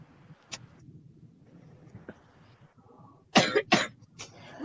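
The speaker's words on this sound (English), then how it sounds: "Oh, he's coughing." A man coughs several times in quick succession, a cluster of short, fairly loud bursts near the end after quieter scattered sounds, with no talk over them.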